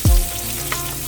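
Thinly sliced onions hit hot sunflower oil in a pressure cooker with a low thud, then settle into a steady, close sizzle.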